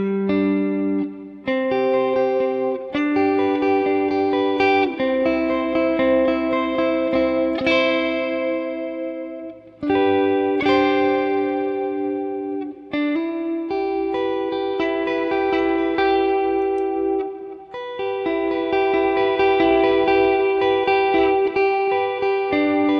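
Electric guitar through a ToneX One with reverb added, melodic single notes and chords, loud and close with reverb tails between phrases, no talk.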